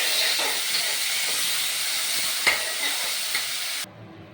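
Ginger-garlic paste hisses and sizzles steadily in hot oil with tempering spices, a close, even frying noise with a faint stir tap or two before it cuts off abruptly.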